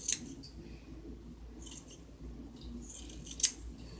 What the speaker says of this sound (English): Cut straight across.